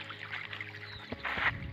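Pump-fed water trickling through a field channel toward onions, soft and fairly faint, with a brief splashing surge near the end and no talking.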